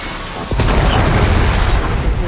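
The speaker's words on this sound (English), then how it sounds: "Drop that bomb!" A bomb explodes in Horizon Forbidden West: a sudden loud, deep boom that breaks after a brief quiet moment, followed by a sustained rumbling roar that lingers to the end.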